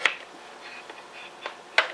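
A PC power supply switch is flicked, giving a few sharp isolated clicks, the loudest at the start and near the end, in a quiet room.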